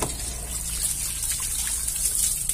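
Water from a hose running steadily into a car's cooling system during coolant-circulation work, a constant close hiss and trickle lasting throughout without speech.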